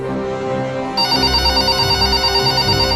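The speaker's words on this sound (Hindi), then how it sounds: "ठीक 11 बजे फोन की घंटी बजी।" A telephone bell rings as a sound effect, a loud, close, rapid trilling that starts abruptly and repeats steadily over low background music.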